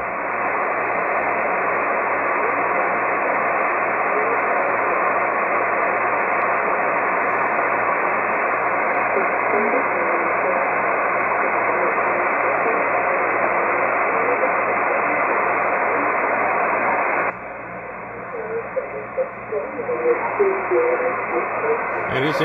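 A Canadian marine weather broadcast received on a Malachit DSP SDR radio clone comes through as a band-limited voice buried in steady hiss, with the noise dropping sharply near the end as noise reduction engages.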